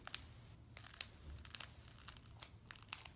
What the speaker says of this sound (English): But cutting the foam's really easy to do.